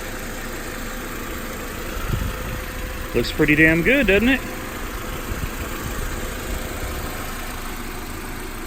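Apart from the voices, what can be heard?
Audi car engine idling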